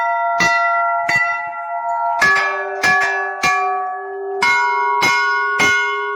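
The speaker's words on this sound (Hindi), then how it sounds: "तो ये घंटियों की आवाज़ आप सुन सकते हैं" Temple bells ring out at Danda Nagraja, Pauri Garhwal, Uttarakhand, in a series of sharp, resonant strikes, several in quick succession, each leaving a long metallic hum that lingers between hits.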